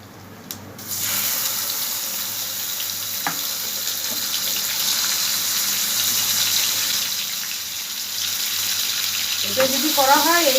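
Fish oil frying in a pan after a nigella seed tempering, for a Bengali fish-oil curry. A steady, fairly loud sizzling hiss runs throughout, with a few faint clinks.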